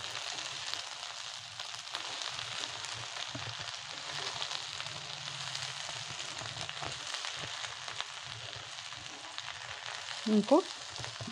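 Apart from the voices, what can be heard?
okra frying in a pan for village-style curry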